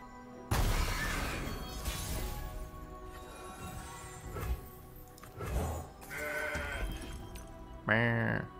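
A goat bleats in the card game Legends of Runeterra, a short wavering cry near the end after loud crashing and shattering game effects, with a voice talking underneath.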